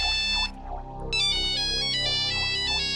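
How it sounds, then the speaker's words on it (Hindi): A mobile phone ringtone plays for an incoming call, a loud repeating electronic melody of bright tonal notes that pauses briefly and then resumes, continuing steadily to the end. "इसका फोन आ रहा है।"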